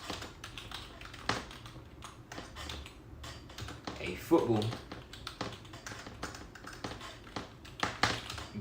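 Quick tapping on a computer keyboard, a close, uneven run of clicks scattered through the whole stretch while someone talks over it.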